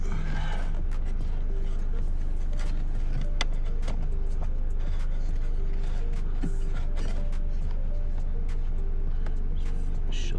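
A cabin air filter pushed into its housing in a Ford Fiesta, heard as close plastic creaks, scrapes and small clicks over a steady low background hum, with no talking.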